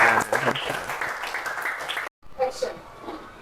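Schoolchildren in a classroom clap together in a brief burst of applause that cuts off abruptly, followed by a short pause and a few scattered voices.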